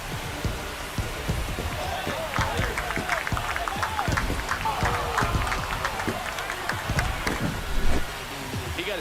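Baseball crowd at a Phillies home game roars after a home run by the Cardinals-Phillies matchup's hitter, a steady loud wash of cheering and shouting with scattered claps that swells near the end.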